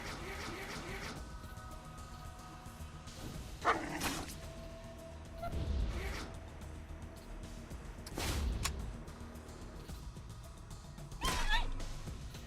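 Dogs in the video game Wasteland 2 bark and whimper in several short bursts over a steady game soundscape, with yips rising at intervals across the scene.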